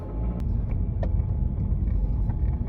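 An Audi A1 engine, treated with a litre of DPF cleaner, runs with a steady low rumble close by, no voices over it.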